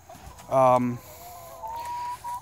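Pullets and hens on a farm, including Americanas, Silkie Bantams and black, white and cinnamon birds kept on fresh grass, give one loud, close harmonic squawk midway, followed by softer, faint tonal calls.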